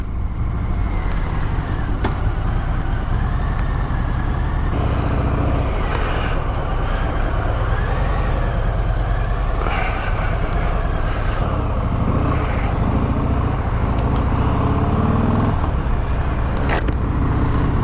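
A Harley-Davidson motorcycle rides through city traffic, its engine droning loudly and continuously up close, with rising and falling revs and passing road noise around it.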